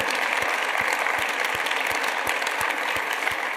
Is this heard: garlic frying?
no